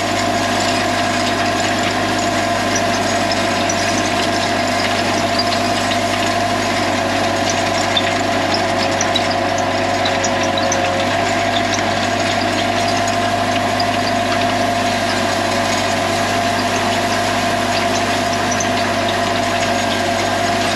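A Deutz-Fahr tractor engine runs steadily near a field at haymaking, a continuous loud droning hum with constant vibration and no pauses.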